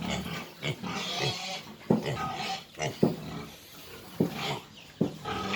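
Duroc breeding sows on a farm grunting in repeated short, close bursts, rough and low, with a steady background hum between grunts.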